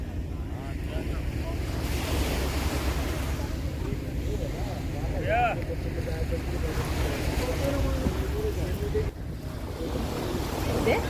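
Surf washes steadily along Marina beach in Goa, a continuous broad rush under wind buffeting the microphone, with faint voices and distant boat noise mixed in.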